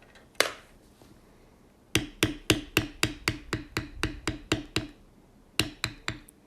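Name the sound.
leather tooling, beveling lines with a beveler and mallet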